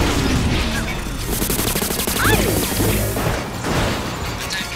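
Missile launcher fire and impacts in the Cars 2 video game, a loud, crowded run of rapid bangs, crashes and booms packed against steady engine noise, with a voice speaking over part of it.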